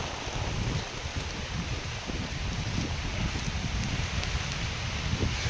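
Steady monsoon rain patters and hisses outdoors with some wind and rustling, a moderately loud, continuous wash of sound without speech.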